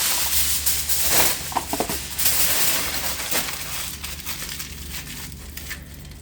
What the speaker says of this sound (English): We're going to just ball up some aluminum foil.